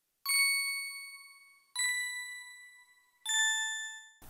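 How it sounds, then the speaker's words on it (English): A small synthesized bell struck three times at even intervals, each bright ding ringing out and fading before the next, clear and isolated in a music production. "Lastly, I took this little bell"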